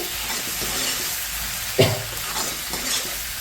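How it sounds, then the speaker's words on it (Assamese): Spices for an Assamese-style mutton curry fry in a pan with a steady close sizzle, broken by a few stirring scrapes and one sharper scrape near the middle. "এতিয়া মছলাখিনি দি অকণমান লাৰি দিওঁ এনেকৈ ফ্ৰাই কৰোঁ ধুনীয়াকৈ"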